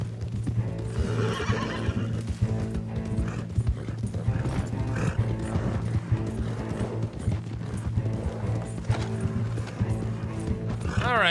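Horse hooves in Red Dead Redemption 2, a continuous galloping clip-clop with a horse neighing, loud and steady over rumbling game sound and creaking tack.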